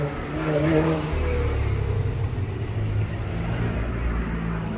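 A car engine hums past outdoors, a steady low rumble rising slightly then settling, with faint background noise and no talking.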